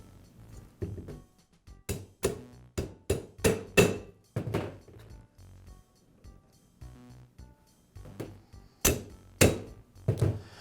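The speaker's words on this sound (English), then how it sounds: "I'll align them one at a time with the casting, and then tap the pin back into place" A pin is tapped back into the casting of a Ridgid pipe cutter while new cutter rolls are fitted, a close series of sharp metallic taps in uneven bursts with short pauses between groups.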